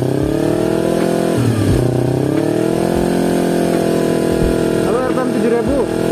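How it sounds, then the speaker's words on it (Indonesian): A Yamaha R25 motorcycle fitted with a Kazen Proexhaust DENT 33SS exhaust is held at about 5000 RPM, giving a loud, close, steady droning note, with someone speaking over it. "Kita naikin lagi ke RPM 5000 ya."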